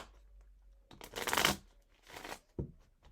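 A deck of tarot cards is shuffled in a few quick riffling bursts, close and crisp, separated by short pauses and ending with a soft tap.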